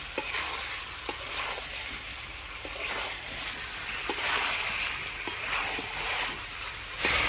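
Meat and potatoes stirred and sautéed in a pan for a village-style country butter chicken, a steady sizzle with repeated scraping stirs and clinks, close and alone with no talk.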